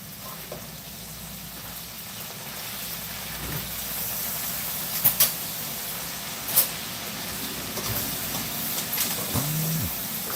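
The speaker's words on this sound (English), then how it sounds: "you can hear it sizzling and frying" Cabbage frying in a pan with a steady, broad sizzle and hiss, plus a few sharp pops and light clanks, continuous and close with no voices.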